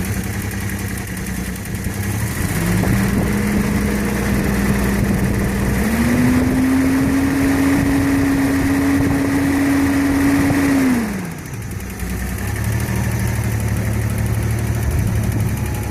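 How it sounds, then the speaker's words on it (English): A 1977 Datsun 280Z engine with 325,000 miles idles with a smooth, steady hum; its pitch rises briefly twice, then drops back before settling into the idle again. "engine as it's idling"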